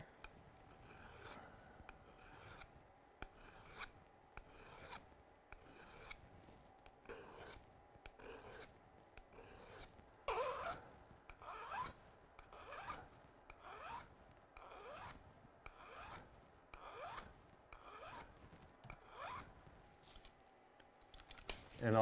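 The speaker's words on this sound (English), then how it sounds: "I'm going to sharpen my crampons here without the vise." A hand file rasps across steel crampon points in steady, evenly spaced strokes, about twenty of them, close and fairly quiet.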